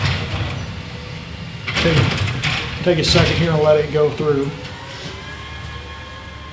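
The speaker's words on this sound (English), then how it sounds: "our trash truck's coming through the neighborhood right now" A garbage truck rolls through a residential neighborhood, its engine rumbling and swelling with hissing, squealing brake sounds mid-pass before fading, while someone talks over it.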